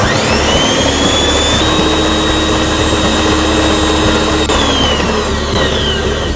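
An electric mixer runs loudly and steadily, whirring with a high motor whine while blending strawberry ice cream ingredients with condensed milk, close and continuous with no talking.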